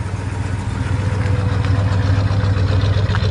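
A 1967 Pontiac Le Mans V8 with dual exhaust idles steadily, a deep, loping rumble heard close and alone, with no one talking.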